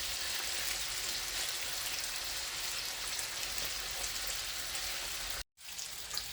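Bacon frying in a pan, a dense, continuous sizzle and spatter at close range that cuts out abruptly near the end, then briefly resumes.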